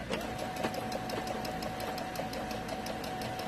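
A sewing machine stitches a seam on a child's apron, running at a steady rhythmic mechanical pace throughout, close and continuous with no speech.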